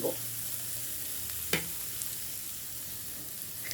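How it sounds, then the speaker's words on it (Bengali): An egg sizzles with vegetables in hot oil for vegetable egg noodles: a steady, close frying hiss with one sharp utensil clink partway through and no voices. "ডিমটা সবজির সাথে খুব ভালোভাবে ভেজে নিতে হবে"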